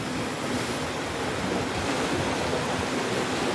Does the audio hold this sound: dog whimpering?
no